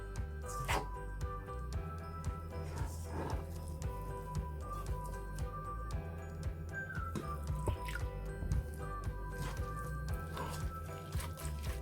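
Water being stirred little by little into a gram flour (besan) batter for roti, giving soft, wet squishing and dripping sounds that stay faint and close throughout.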